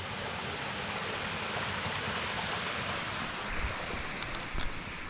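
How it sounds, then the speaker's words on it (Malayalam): A small stream tumbles downhill over rocks in the hills of Kothamangalam, Kerala, a steady, dense rushing of water heard close and continuous, with a few faint knocks near the end and no talk. "ഇവിടെ വെള്ളമൊക്കെ ചാടുന്നൊരു ശബ്ദമൊക്കെ കേട്ടോ ഇതിവിടെ അങ്ങനെ താഴേക്ക് ഒരു അരുവിയൊക്കെ അങ്ങനെ ഒഴുകി പോകുന്നുണ്ട്"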